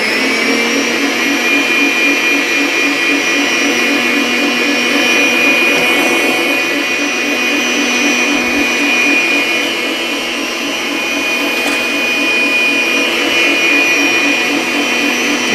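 A KitchenAid stand mixer whips soap with a loud, steady motor whir and high whine that runs unbroken throughout, with no voices.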